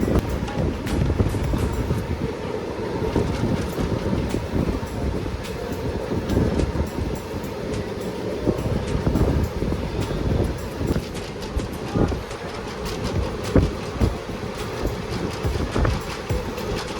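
A passenger train running on rails during a journey through Kerala lakelands near Ezhimala, with a steady loud broadband rumble and rhythmic clacks of wheels over rail joints, heard from inside the carriage.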